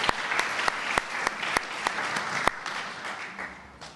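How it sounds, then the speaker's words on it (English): An audience at an athletics center re-dedication applauds the school band, a moderate patter of clapping with sharp individual claps standing out before it tapers off. "Let's give them a round of applause,"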